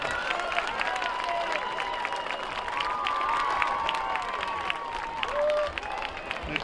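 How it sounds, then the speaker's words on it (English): A crowd at a high school football game applauds and cheers for a 3rd through 6th grade cheer team, with steady clapping under children's shouts and high excited voices, outdoors and moderately distant. "Big round of applause for our 3rd through 6th grade cheer team."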